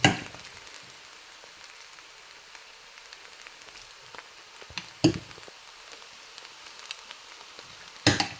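Mutton for kothu frying in a pan gives a soft, even sizzle, broken by three sharp metallic clangs of a spatula striking the pan at the start, middle and end, with no voices.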